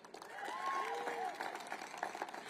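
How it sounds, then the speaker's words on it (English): Applause from an audience at a Washington, DC tourism event, fairly moderate and steady, with some voices or whistles mixed in over the claps. "That deserves a round of applause."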